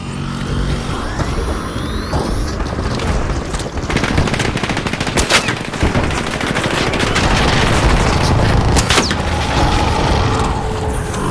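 Automatic weapon fire in the video game ARC Raiders, dense rapid bursts of shots with booms and mechanical clatter, loud and continuous throughout with no talking.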